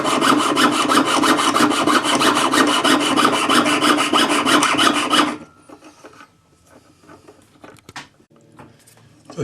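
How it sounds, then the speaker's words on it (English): A jeweler's saw cuts from the inside of a metal claw setting with rapid, even rasping strokes for about five seconds, then stops, leaving faint handling clicks and taps. "clamp it, and you're ready to saw from the inside"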